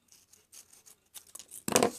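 Scissors cut through paper cupcake liners for a rosette: a few soft, faint snips and rustles, ending in one louder crisp cut with crinkling paper.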